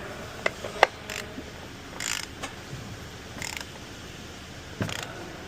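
Wrench ratcheting to tighten a bolt during an oil change on a Rolls-Royce Wraith, giving a few faint ratchet clicks and short creaky bursts spaced apart against a quiet background hiss.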